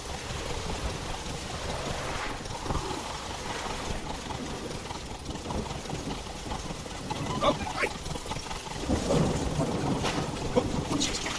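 Steady rain hisses over a low rumble of thunder in The Witcher 3, a continuous wet wash with a few louder swells and a character voice talking over it.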